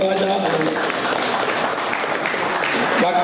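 Steady applause from a gathered crowd at a Hindu temple foundation ceremony for a new Sri Varasiddhi Vinayagar shrine, filling the whole moment loud and dense with a faint voice showing through near the end.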